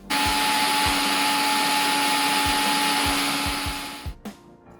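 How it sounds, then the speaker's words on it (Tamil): A kitchen mixer grinds sugar in a steady high-pitched whirring burst of about four seconds, with faint rattling knocks, then cuts off and spins down. "சீனியை அரைச்செடுக்கணும்."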